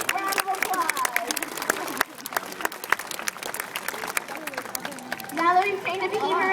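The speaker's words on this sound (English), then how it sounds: "I wanted to give her one big round of applause" Crowd applause at a dolphin show, a burst of clapping that rises and thins out, with children's voices and a trainer talking over it.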